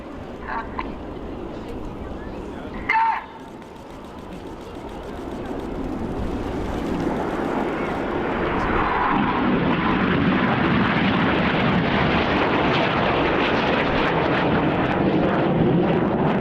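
Red Arrows display jets flying low at about 100 feet at RIAT 2013, a broad jet roar that swells from a moderate rumble to a loud sustained blast over the second half, with a brief thump early on and commentary over it.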